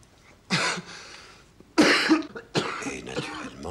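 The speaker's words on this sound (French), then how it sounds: "Et naturellement, il tousse." A sick man in a French radio drama coughs in three separate harsh bursts, the first short and the later two longer and fuller, heard close with quiet pauses between.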